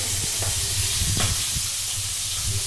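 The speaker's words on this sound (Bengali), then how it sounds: "ফাটছে মাছ" Fish frying in a pan in a home kitchen, giving a steady close sizzle broken by a few sharp crackles and pops, with no one talking.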